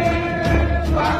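A crowd at a political event tied to the announcement of the 2024 Indonesian presidential election winner, cheering and shouting in a dense, loud, continuous roar of many voices.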